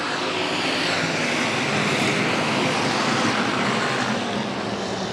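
IMCA Hobby Stock cars racing at a raceway right after the green flag, a dense, steady roar of many engines filling the air at full throttle without letup.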